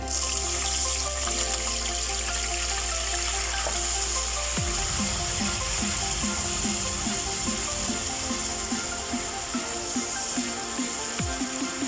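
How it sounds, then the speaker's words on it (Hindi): Water pours steadily into a cooking pot for chicken yakhni pulao over whole spices like cinnamon, cardamom, cloves and bay leaf, a continuous splashing flow with small repeated clinks partway through, close and fairly loud, no voices. "अब इसमें थोड़ा पानी डाल देंगे।"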